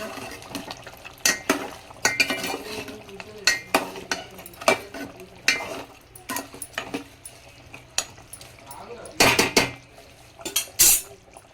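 Mutton curry being stirred in a pot for village-style Telangana thunakala curry, with irregular loud clanks and scrapes of a metal spoon against the vessel and quieter moments in between.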